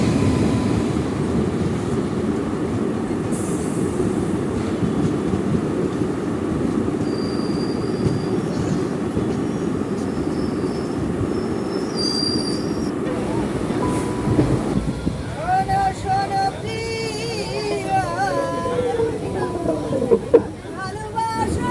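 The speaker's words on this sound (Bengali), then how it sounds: "এই চলে এসছে আমাদের এক্সপ্রেস।" Express train rumbles loudly into a station, a steady heavy roar of wheels and carriages that gives way to squealing brakes and a rattling clatter as it slows, with faint voices around.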